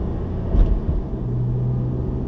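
Car accelerating in first gear away from a stop sign and turning, a steady low engine drone with a brief louder bump near the start, no voices.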